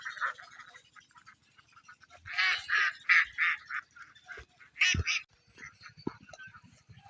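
Ducks quacking beside a rice field, bursts of loud, nasal calls in overlapping clusters, some near and some farther off, with quieter stretches between and no talking.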